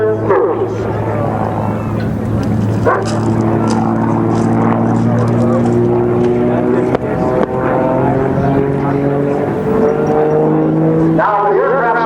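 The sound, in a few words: Aero Commander twin-prop airplane flying a single-engine loop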